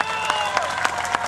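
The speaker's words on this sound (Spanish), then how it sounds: "venga el aplauso" A crowd claps at a Rey de Reyes bull riding tournament in San José Tejalpa, a short burst of steady applause with a few sharper claps standing out at regular intervals, with a voice or music faintly underneath.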